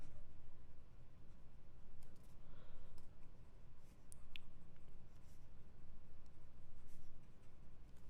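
A Gioia Metis fountain pen with a broad nib scratches softly across paper in close, faint continuous strokes, with occasional tiny ticks as the nib lifts and lands.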